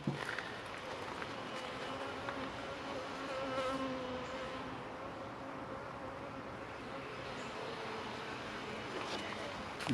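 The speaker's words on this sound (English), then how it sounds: "looks like we got plenty of bees in here still" A steady, low buzzing of many honey bees hums throughout, close and continuous, with faint rustling and handling noises as a hive is opened for inspection.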